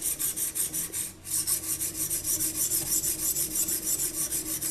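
A tactical tanto knife is honed on a galvanic-bonded diamond stone from a Cheboksary factory, giving a loud, steady rasping scrape in rapid rhythmic strokes with a brief pause near the start.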